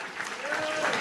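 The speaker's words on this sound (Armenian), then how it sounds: "Վալենտինի համար էլ բարձր ծափարենք բոլորս միասին սիրելի հյուրեր" Wedding guests applaud together in a continuous wash of clapping, with a faint voice and music underneath.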